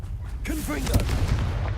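The Confringo explosive spell is cast in Hogwarts Legacy: a short, loud fiery burst with a deep low rumble, partly overlapped by a brief spoken voice.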